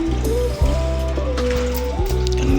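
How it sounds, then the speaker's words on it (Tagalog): Water trickles into a drinking container for pigeons, a close, steady pouring and dribbling sound with faint thuds, with no talking. "Lagay ko lang dito para may tubig ang mga kalapati natin dyan."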